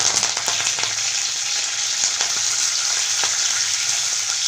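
Cumin, mustard seeds and curry leaves fry in hot oil for upma, giving a continuous close sizzle broken by sharp crackles and pops from the seeds.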